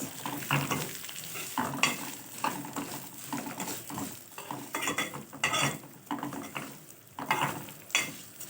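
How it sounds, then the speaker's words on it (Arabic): Vermicelli frying in a pot on a home stove, with steady sizzling and repeated scraping stir strokes of a utensil against the pot, close and fairly soft with no talking. "وبحمر الشعريه اهيت"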